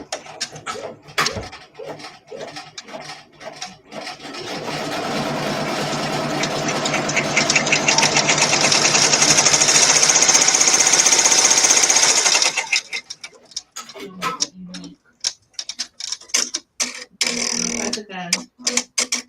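An embroidery machine stitches an in-the-hoop project in a steady, fast mechanical whir lasting several seconds, loud and close, with people chatting before and after the run.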